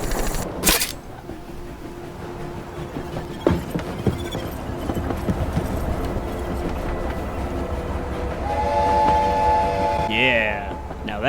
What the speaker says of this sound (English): Now that is a train whistle.